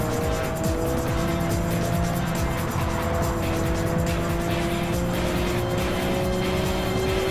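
A Subaru Impreza's engine roars steadily in a racing video game, with sustained droning tones and rising revs over gritty road and tyre noise, loud and continuous throughout with no pauses.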